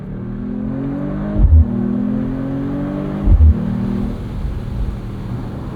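A 2025 Mercedes-AMG CLE 53 Cabriolet with a 443 hp turbocharged inline-6 accelerates hard in race mode with manual shifting. Engine note rises steadily, broken by two quick upshift thumps, loud and close, with no talk.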